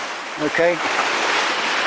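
Sea water surging into Mermaid Grotto, a sea cave, as a loud, continuous rushing wash of surf close by, with a person speaking briefly over it.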